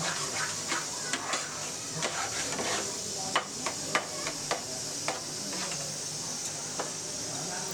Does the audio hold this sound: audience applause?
no